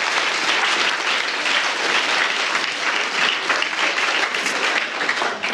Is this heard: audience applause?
yes